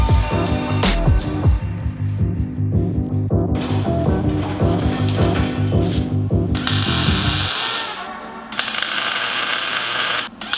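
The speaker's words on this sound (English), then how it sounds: "So I'm just gonna tighten it because I want all my header bolts tight." A ratchet wrench clicks in quick repeated bursts while tightening header bolts on a drift truck engine, the pawl ticking loudly and close, with metallic clinks, a steady background hum and bursts of hiss between passes.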